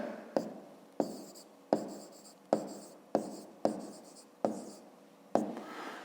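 Pen or pencil writing out a 5th-grade math solution by hand on paper, close and clear: eight sharp scratchy strokes at roughly even intervals, each starting with a tap and trailing off, with no talk.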